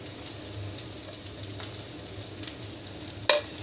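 Cluster beans thecha stirred in a hot pan, with a soft steady sizzle and a few faint scraping stirs, one sharper clink near the end.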